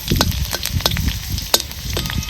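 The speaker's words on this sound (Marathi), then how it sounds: "आता ह्याच्यात चिरून घेतलेला लसूण घालते लसणाचा बी रंग चांगला बदलस्तवर लसूण भाजून घ्यायचं आपल्याला तेलात" Chopped garlic fries in oil in a home kitchen pan, a close, steady sizzle broken by small crackles and pops, with no talking over it.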